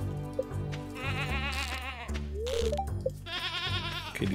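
Goats on a Stardew Valley farm bleat in several wavering calls, moderately loud over quiet game sounds, with occasional soft clicks between them.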